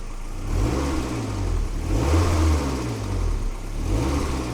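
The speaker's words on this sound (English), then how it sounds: "this is how a nice engine should sound." A low-mileage W20 Toyota MR2 engine runs steadily with a smooth, quiet, low hum, rising slightly in a mild rev before settling; continuous and fairly close.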